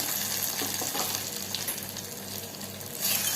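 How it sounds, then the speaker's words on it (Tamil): Tempering of hot oil and spices poured into a mango buttermilk curry (mor kuzhambu), giving a steady close sizzle and crackle that runs throughout and swells near the end. "இப்போ இந்த தாளிச்சலை எடுத்து மாங்காயில் போட்டுக்கலாம்"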